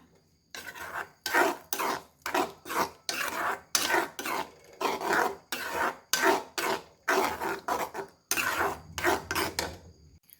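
Tomato and egg mixture stirred in a pan over a low flame, with a utensil scraping the pan in quick, rhythmic strokes, loud and close, in repeated bursts with short pauses, no talking.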